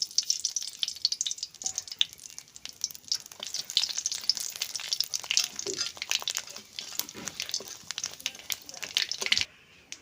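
Dried chillies and black cumin crackle in hot fish-frying oil, a steady close sizzle with dense spattering pops throughout, cutting off abruptly near the end, with faint speech underneath.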